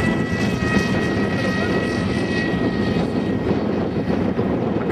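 AXN Floater RC plane motor screaming at full throttle, a loud steady high-pitched whine with prop buzz that holds close and constant throughout, the wind rushing across the microphone underneath.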